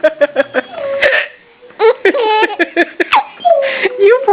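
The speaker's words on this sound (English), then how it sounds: "You poor thing, you have the hiccups too." A baby's sharp little hiccups punctuate bouts of giggling and squealing, close to the mic, in quick uneven bursts.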